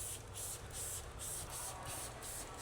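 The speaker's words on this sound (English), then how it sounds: "We can just mist this whole thing with this 3-to-1 mix" Bursts of fine mist spray a 3-to-1 mix onto the rusty metal of a 2004 Peterbilt truck, about eight quick hissing pulses in a steady rhythm, close and fairly loud.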